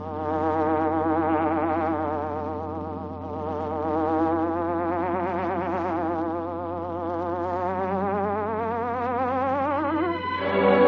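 A buzzing hornet effect for the Green Hornet radio show: a loud, sustained, wavering insect drone that rises and falls in pitch over a steady low hum, ending with a brief shift.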